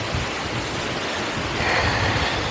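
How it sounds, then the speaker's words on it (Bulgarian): Strong wind buffets the microphone outdoors at a burial mound near the village of Mezek in mild December weather, a steady broadband roar with a gustier surge in the second half. "И има страшен вятър."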